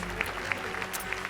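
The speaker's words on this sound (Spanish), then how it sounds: "La vamos a recibir con un fuerte aplauso." Studio audience applauses to welcome a guest on an Argentine afternoon TV show, a steady, fairly quiet wash of clapping with a few sharper claps standing out, no talk over it.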